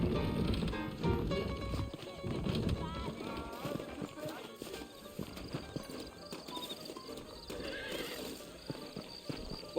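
Horses in the video game Red Dead Redemption neighing and whinnying while hooves clip-clop steadily nearby, mixed with a voice talking over the animal sounds.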